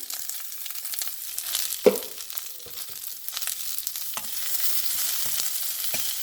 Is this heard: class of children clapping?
no